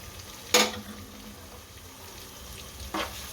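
Spices being stirred into a black-eyed bean (chora) curry in a pan, with a soft steady sizzle and two sharp scraping strokes of the spoon against the pan, close and fairly quiet.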